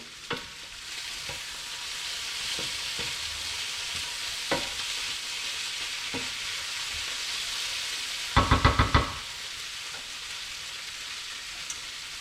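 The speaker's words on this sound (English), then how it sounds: "Four tablespoons of the tamari soy sauce. Just a quick stir." Honey chicken sizzles in a pan after four tablespoons of tamari soy sauce go in, with a steady frying hiss, a few soft spoon taps and a brief burst of rapid scraping strokes near the end. No one talks.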